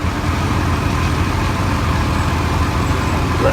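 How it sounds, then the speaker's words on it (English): A bucking tractor, the kind used to push loose hay into a stack, rumbles past in the Rollag 2018 parade with a steady, continuous low engine drone held close and fairly loud, no voices. "This is a bucking tractor."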